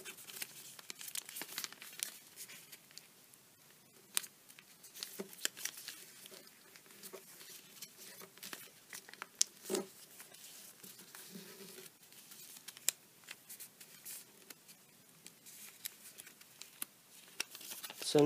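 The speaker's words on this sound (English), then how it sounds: "So now you take this flap and petal fold it along to these creases" Origami paper petal-folded into a crane, giving faint, close crinkles and soft rustling crumples that come in irregular bursts against a quiet background.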